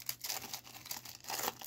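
A Yu-Gi-Oh booster pack's foil wrapper tears and crinkles up close, a short burst of quiet ripping and rustling with no voices.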